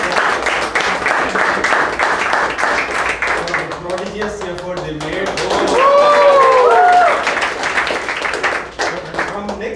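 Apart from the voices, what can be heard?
audience applause at end of club meeting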